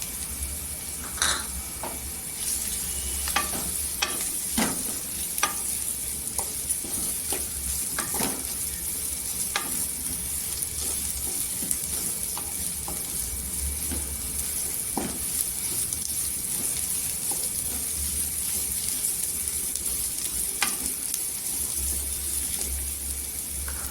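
Dry coconut masala sautés in oil in a pan for a village-style brinjal curry, a continuous close sizzle broken by frequent clicks and scrapes of stirring.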